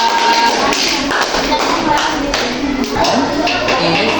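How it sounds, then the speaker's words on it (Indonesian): Classmates in a classroom applaud for two students, a dense run of clapping and taps filling the room steadily throughout. "Boleh tepuk tangan teman-teman buat Tarla dan Dara"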